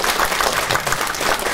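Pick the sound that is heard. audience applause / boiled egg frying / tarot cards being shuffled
audience applause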